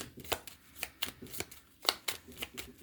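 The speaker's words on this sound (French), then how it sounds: "Je vais tirer une dernière carte de celui-là." A card being drawn from a tarot-style deck, heard as a series of crisp, close paper flicks and snaps, several in an irregular rhythm, with no voice over them.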